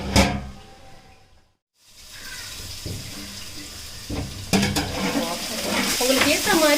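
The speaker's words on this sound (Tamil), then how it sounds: "இப்போ நல்ல கிளறி விட்டுட்டு அது ப்ரௌன் ஆகிற வரைக்கும் நம்ம வெயிட் பண்ணலாம்" Vegetables for veg biryani sizzle in a pan while being stirred, with scraping strokes and a brief silent gap near the start. The frying grows busier and louder toward the end.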